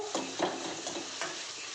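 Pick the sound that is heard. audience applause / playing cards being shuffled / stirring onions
stirring onions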